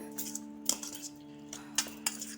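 A spoon mixes chopped vegetables with chaat masala in a bowl, making light irregular clinks and scrapes against the dish over a faint steady background hum.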